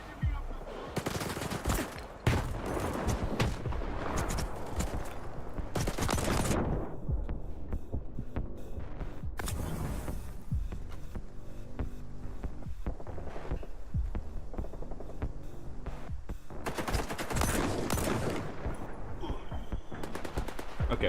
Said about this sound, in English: They're firing on our position there, so we'll reload.